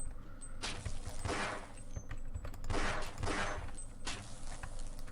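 Pistol fire in Half-Life comes as several loud, sharp bursts spaced a second or so apart, each trailing into a short rattle, with game ambience between the shots and no voices.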